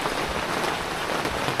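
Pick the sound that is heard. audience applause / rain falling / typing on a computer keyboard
rain falling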